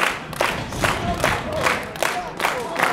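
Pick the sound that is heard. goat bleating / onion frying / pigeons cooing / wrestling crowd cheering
wrestling crowd cheering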